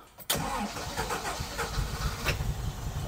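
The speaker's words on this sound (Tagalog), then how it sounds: "Try ko ngayon na start." A Volkswagen car left unused for five years is started: a sudden cranking burst gives way at once to the engine catching and running in a close, slightly uneven idle.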